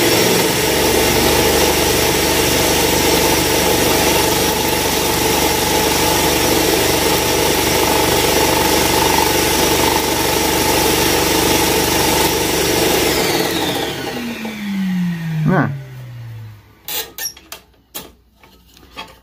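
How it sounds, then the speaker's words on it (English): A loud, steady whining drone of a shop vac and scroll saw runs continuously, then winds down and stops, leaving a few sharp clicks and quieter background. "I have a shop vac hooked up to my scroll saw and hooked up to a foot pedal"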